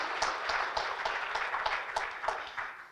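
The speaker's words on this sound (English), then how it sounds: "Give them a round of applause." An audience at a university merger forum gives a round of applause. Fairly quiet clapping from the room sets up a loose, repeating rhythm of hand strikes, with no one speaking.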